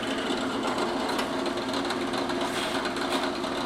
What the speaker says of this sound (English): So basically what I'm going to do is drill all my shells.